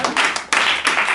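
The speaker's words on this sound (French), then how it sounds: "alors on peut l'applaudir" An improv festival audience claps in short, loud bursts of applause that rise and fall quickly, dense and close, with no talking over it.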